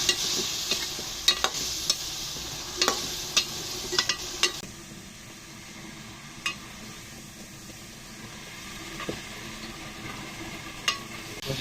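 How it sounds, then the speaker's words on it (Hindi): Ginger garlic paste fries with beef in ghee in a karahi, a steady close sizzle that is brightest at first and then settles lower, broken by scattered sharp clicks and scrapes of a stirring spoon. "अदरक लहसुन के पेस्ट को भी अच्छी तरह से भूनेंगे।"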